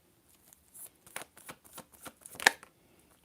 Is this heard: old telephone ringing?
no